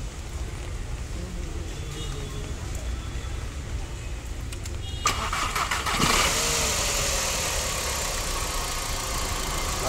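Skoda Octavia vRS engine turning over and catching after a timing belt replacement in a workshop, a sharp start midway rising into a steady, fairly loud idle that holds to the end.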